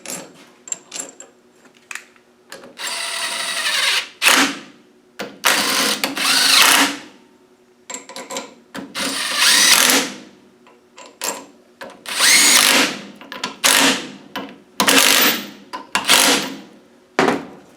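A power tool drives bolts on an LT230 centre differential during shimming, heard as repeated loud whirring bursts of a few seconds each, separated by short pauses, close up with no talk.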